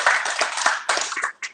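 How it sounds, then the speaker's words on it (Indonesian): Church congregation clapping in praise of God during a sermon; a short, dense burst of many hands applauding close by that fades toward the end. "Berikan tepuk tangan untuk Tuhan."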